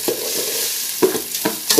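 Rice browning in a pan for Arabic rice gives a steady sizzling hiss with a few soft stirring scrapes and clinks.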